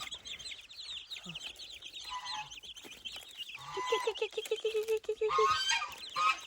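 Chickens cluck and chatter close by in a farmyard, a mix of busy high calls and a run of rapid repeated clucks.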